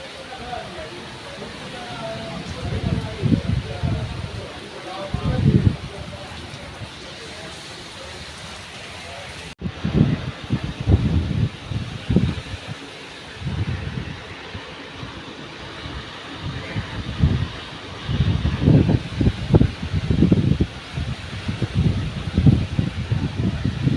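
Steady rain patters and hisses under gusting wind, with someone talking intermittently over it at close range.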